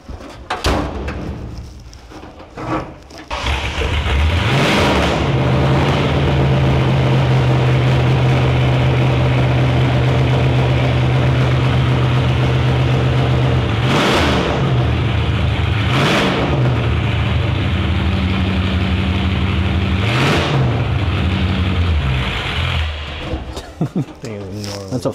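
An H&H flathead engine in a custom car turns over with a few cranks, catches and settles into a loud, steady idle, then is blipped in sharp revs several times, close up.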